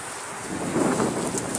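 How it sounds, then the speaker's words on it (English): Strong wind gusts buffet the microphone outdoors at a memorial site on a cold day, a steady rushing roar that swells slightly midway, with no voices. "Wind's blowing really strong too."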